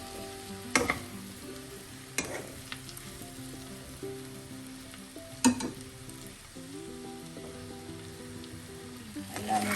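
Ivy gourd (kovakka) fries in a pan with a steady, even sizzle, broken by a few loud scraping stirs near the start and middle, and no one speaking.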